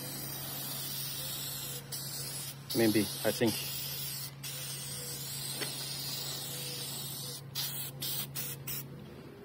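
A long, continuous hiss of headlight restoration polish sprayed from an aerosol can onto a car headlight, close and even, broken by a few quick short bursts near the end; someone speaks briefly over it.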